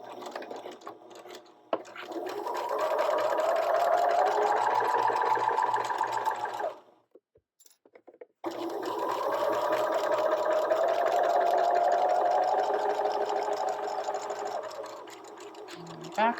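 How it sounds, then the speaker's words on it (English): Sewing machine stitching fabric, a fast close mechanical whir in two long bursts separated by a short pause, with a faint voice in the background. "I'm just going to sew from that midpoint to the bottom midpoint"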